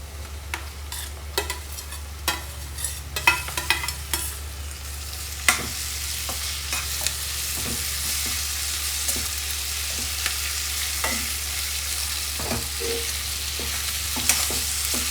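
Raw mango pieces fry in a pan while being stirred for mango chitranna, a steady close sizzle with repeated scraping and tapping of the spatula.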